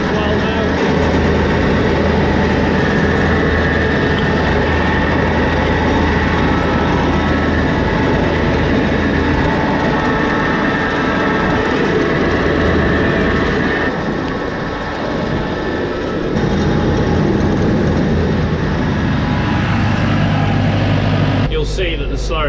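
A slurry pump on a dairy farm running with its engine: a loud, continuous droning rumble that holds steady throughout, with a brief dip partway and some clatter near the end.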